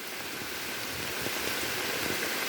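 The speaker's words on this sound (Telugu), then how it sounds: "ఆల్రెడీ వర్షం అయితే స్టార్ట్ అయింది మామూలుగా పడతలేదు వర్షం మాత్రం" Heavy rain falls steadily on a forested hilltop near Venkatayapalem, a dense, even hiss of drops that stays constant throughout with no talking.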